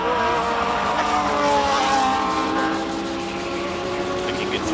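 A single-seater race car on racing slicks accelerates hard through a bend at a hillclimb, its loud engine note rising and shifting as it passes close by, with faint tire scrub underneath.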